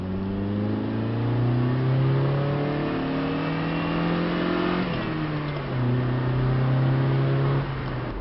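A Saturn SC2 engine accelerating under load, a steady rising drone that climbs in pitch, dips briefly as the revs drop, then pulls again, with a constant whir throughout and no talking.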